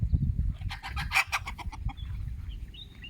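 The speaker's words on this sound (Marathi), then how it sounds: "हा कोंबडा" A rooster clucks in a short burst of rhythmic calls over low background rumble, fairly close, with quieter chirps trailing off afterward.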